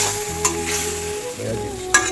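Leftover dal poured into a hot pan of frying small fish sizzles loudly and steadily, with a couple of sharp clinks of a utensil against the pan and no talking.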